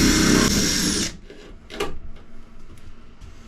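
A power drill whines loudly for about a second, then stops, followed by a few light knocks and tool handling sounds.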